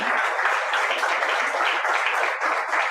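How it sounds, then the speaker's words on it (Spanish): A church congregation at a Sunday worship service bursts into loud, continuous applause, a dense wall of clapping from many people that holds steady for the whole stretch without any speech. "Denle un fuerte aplauso al Señor, no a mí"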